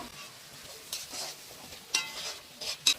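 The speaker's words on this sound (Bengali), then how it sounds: "এবার মশলাটা ভালো করে ভেজে নিব" Ground spice paste for duck curry frying in a pan, a soft steady sizzle with occasional stirring scrapes, moderately close and fairly quiet.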